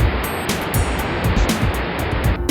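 Niagara Falls pours with a loud, continuous roar of rushing water, broad and heavy with surging rumbles and no speech on top.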